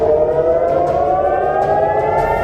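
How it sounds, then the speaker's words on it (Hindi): Civil defense air raid sirens wail continuously in Israel after a missile attack, a steady loud tone holding throughout with faint background noise and no voices. "इजराइल में सायरन बजने लगे"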